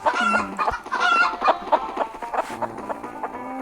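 Repeated chicken clucking in the video game Party Panic, busy and close, layered with game music and effects throughout.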